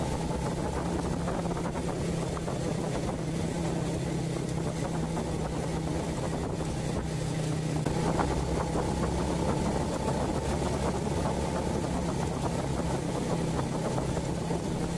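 An old Honda Supra Fit motorcycle climbing a mountain road toward a pine forest at around 1500 m, its engine droning steadily and continuously throughout, fairly loud, with no voices.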